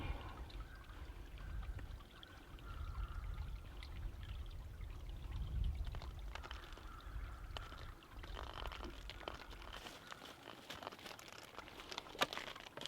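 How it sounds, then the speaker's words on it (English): Water pours and trickles softly and steadily from an unscrewed bottle, faint and close, with some crinkling handling noises. "I'm going to unscrew and let a little bit of water out"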